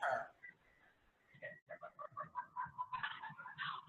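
A pet bird squawking and chattering indoors, a sharp call followed by a rapid series of clucking, chirping notes building in intensity, fairly close and without talk.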